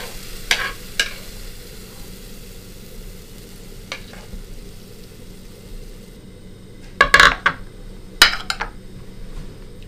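Hot serving plate with a fish fillet, herbs and a touch of sambuca, sizzling in a restaurant kitchen: a low constant fry beneath sharp metallic clinks and scrapes, with louder bursts of sizzle and clatter near the end.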